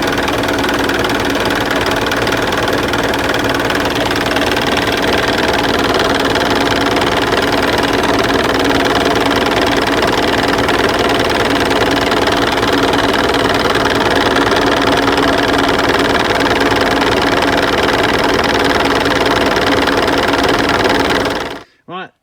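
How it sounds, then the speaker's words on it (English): Volvo BM T700 Turbo tractor engine idling steadily with a loud, even diesel rumble and knock that runs unbroken for about twenty seconds before cutting off abruptly. "I'm going to start the engine up"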